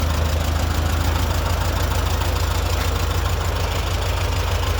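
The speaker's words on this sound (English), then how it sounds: "Third turn on the starting handle, she start fired." A vintage tractor engine, just started with a starting handle, idles at a steady, loud, close chug with a deep, even beat throughout, on a sunny day out and with no voices.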